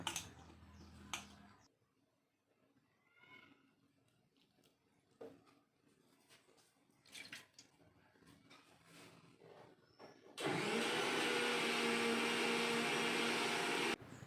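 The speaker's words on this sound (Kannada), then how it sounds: "ಒಂದು ಮಿಕ್ಸಿ ಜಾರ್ ಇಟ್ಕೊಂಡು ಅದಕ್ಕೆ ನಾವು ತೆಗೆದುಕೊಂಡಿರೋ 2 ಟೊಮೊಟೊ, ಒಂದು ಅರ್ಧ ಹೋಳು ತೆಂಗಿನಕಾಯಿ ತುರಿ ಹಾಕಿ ನುಣ್ಣಗೆ ರುಬ್ಕೊಬೇಕು" Mixer grinder blending tomatoes and grated coconut into a paste, starting with a loud, steady whirring roar after a stretch of quiet clinks and handling noises.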